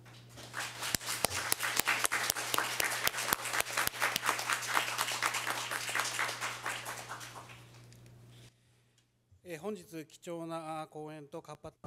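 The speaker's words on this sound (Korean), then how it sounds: "지금까지 발표해 주시고 토론에 참여해 주신 모든 분들께 우리 플로어에서 큰 박수를 부탁드리겠습니다" Audience applause at the close of a Korean-Japanese joint seminar's final panel discussion, dense clapping for about eight seconds that thins out and stops, followed by a person speaking.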